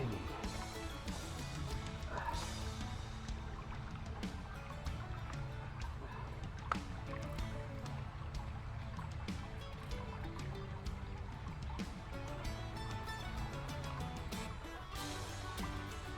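Water trickling steadily into a plastic catchment bag outdoors, a constant wash of liquid noise with faint drips, dense and even throughout without talk.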